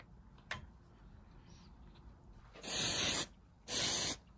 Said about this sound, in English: Bit of activator, give it a minute for the activator to dry and do its thing.